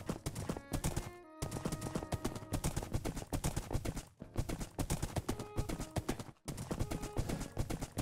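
Horse hoofbeats from a video game, a steady clip-clop rhythm that runs almost continuously for about eight seconds at full loudness, broken by a few brief gaps.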